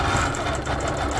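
Bernina Q-series sit-down longarm quilting machine stitching steadily, a continuous close mechanical hum with a fast rhythmic needle patter and no talk.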